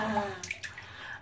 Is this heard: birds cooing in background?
no